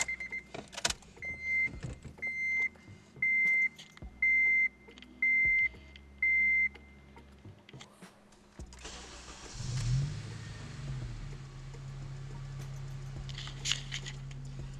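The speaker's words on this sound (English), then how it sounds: "I can't end the video without starting it for you guys at least." A car chimes with a steady series of beeps, then a Honda engine cranks and fires up into a low, rumbling idle close by.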